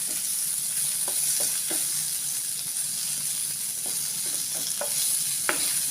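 Prawns with lemon juice stirred and fried over high heat in a pan: steady close sizzle with a hiss running throughout, broken by scattered scraping spoon strokes at an irregular rhythm.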